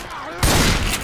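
A sudden loud burst of teammate gunfire in Left 4 Dead 2, starting abruptly partway through after a voice and staying dense to the end.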